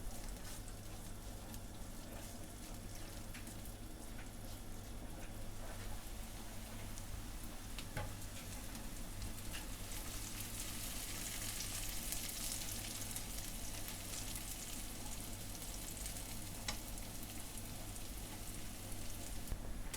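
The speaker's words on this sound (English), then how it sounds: "Add the oil to a saucepan on medium-low heat and add the onions and garlic. It's important to fry them gently." Onions and garlic fry gently in oil in a saucepan over medium-low heat, giving a steady, soft sizzle and crackle that carries on alone for the whole stretch with no voices.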